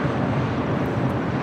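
Southwest Airlines Boeing 737 MAX 8 jet at LAX, a steady loud broadband engine roar with no break, heard from close by.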